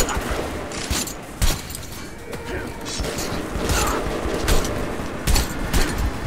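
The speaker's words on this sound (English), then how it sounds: "Why are they shooting at me?" Gunfire in the video game Metro 2033 Redux: bursts of shots and mechanical clatter come in irregular clusters over a dense background, with someone talking over it.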